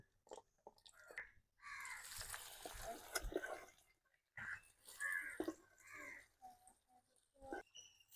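Fried eggplant being rinsed under water to wash off the oil, with faint, intermittent splashing and pouring in short bursts separated by quiet gaps.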